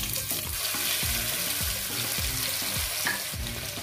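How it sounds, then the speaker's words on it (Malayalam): Onion, tomato and green chili sautéing in oil left from frying chicken, a steady close sizzle with repeated scraping stirs of a spatula in the pan. "ഇനി നമുക്ക് ഈ ചിക്കൻ ഫ്രൈ ചെയ്ത സെയിം ഓയിലിലേക്ക് ഈ സവാളയും തക്കാളിയും പച്ചമുളകും ഇട്ടിട്ട് ഒന്ന് വഴറ്റിയെടുക്കാം"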